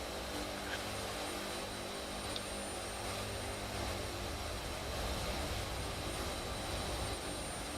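A plane's engine drones steadily in Flight Simulator 2024, a constant broadband whine with a high tonal hum, unchanging and fairly quiet throughout, no talk.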